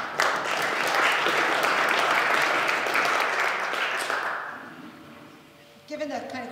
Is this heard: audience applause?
yes